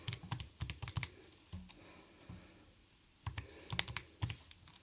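Bursts of computer keyboard typing, fast clusters of key clicks in two runs separated by a short pause, close and clear with no talk.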